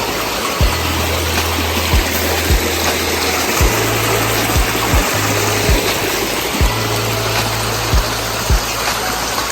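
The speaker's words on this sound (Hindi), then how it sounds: "चश्मे की आवाज़ आ रही है यहाँ पर।" Spring water flows inside the historical well of Kanthala built by Sher Shah Suri, making a loud, steady rushing roar broken by faint, regularly spaced knocks.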